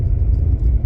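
A 1990s-era MK3 Volkswagen GTI with a VR6 engine rolls along on a drive, its low engine and road rumble steady and close throughout the brief moment, with no voices.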